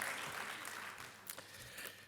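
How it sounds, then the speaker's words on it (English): Faint, steady applause from an audience at a corporate tax filing event, a soft wash of clapping heard from a distance and continuing briefly with no voices. "I think he needs a big round of applause, everyone."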